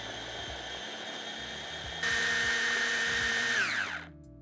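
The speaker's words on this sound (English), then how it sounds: "Blend it all together until you get a fairly smooth paste." An electric blender whirs steadily, blending a peri-peri chicken marinade with lemon zest, juice, pepper and dried rosemary into a smooth paste, jumps up in pitch and loudness partway, then winds down and stops.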